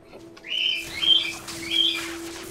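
A bird in World of Warcraft gives three rising, squawking calls over a steady low hum, loud and close with no talk.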